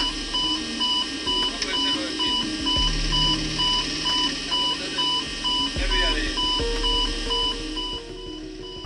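Aeroperu 603 cockpit warnings sound together: overspeed and stall alarms repeat as steady electronic beeps and tones in a dense layered cycle, with a voice speaking over the clamor throughout.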